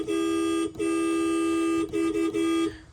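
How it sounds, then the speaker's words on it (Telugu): A vehicle horn blares loud and close as a long sustained tone, then breaks into a few short toots before cutting off. "హారన్"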